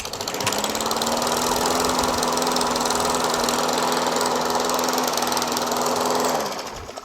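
A Yard Machines MTD push lawn mower with a bent crankshaft runs steadily for several seconds, a loud, close, rough knocking drone with strong vibration, then cuts off near the end.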